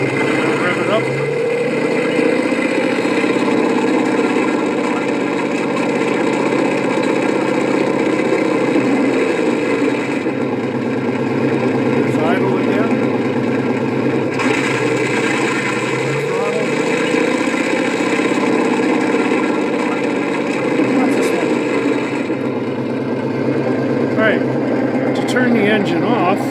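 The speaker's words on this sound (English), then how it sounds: "I'm just going to disengage the clutch and rev it up" A 1/16-scale RC Jagdpanther tank model's engine sound unit, with proportional idle smoke, hums steadily and loud, swelling as it revs with the clutch disengaged, while someone talks over it throughout.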